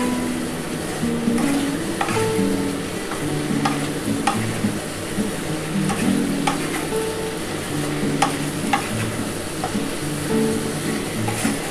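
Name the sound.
stirring and lightly frying onions for a mutton stew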